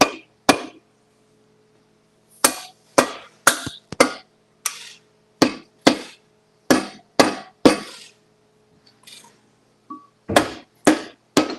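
Sharp, ringing metallic hammer strikes land one after another in uneven bursts, loud and close, with brief silences between groups of blows.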